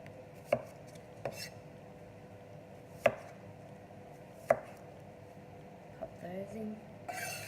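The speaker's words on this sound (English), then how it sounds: "Cut down the middle and just nice sort of chunky bits of cucumber." A knife chops cucumber into chunky pieces on a board, giving sharp, spaced knocks, about five clear strikes, with a soft background hum and a brief clatter near the end.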